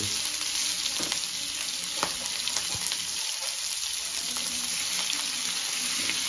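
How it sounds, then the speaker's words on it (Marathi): Marinated fish, coated with ginger-garlic paste and onion masala, frying in a pan with a steady close sizzle and scattered crackles and utensil taps throughout. "एकीकडे मच्छी फ्राय करून घेऊया आपण छान पैकी"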